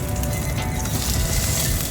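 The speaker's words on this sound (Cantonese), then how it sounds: "煎魚柳都煎到脆脆" A fish fillet coated in egg and a little flour fries slowly over low heat in a pan, making a dense, steady crackling sizzle close by.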